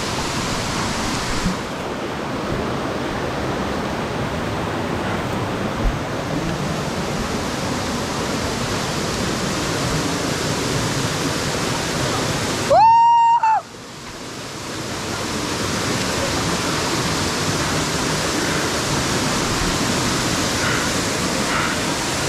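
Pomma Kida waterfall near Vaniyambadi roars as a constant, dense rush of falling water, broken once midway by a brief tonal electronic interruption before the steady roar resumes.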